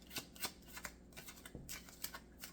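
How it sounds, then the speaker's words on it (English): A deck of tarot cards is shuffled by hand in a quiet room, a run of quick riffling bursts and soft slaps in an uneven rhythm, close and fairly faint. "And the warrior just came back out after I just did all that shuffling."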